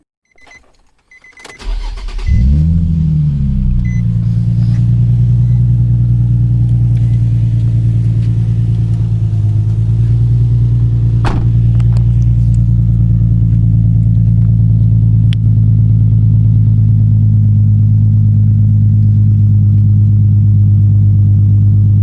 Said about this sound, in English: do another kind of cold start with the silencers out